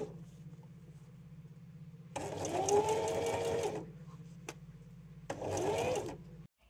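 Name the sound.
sewing machine stitching a corset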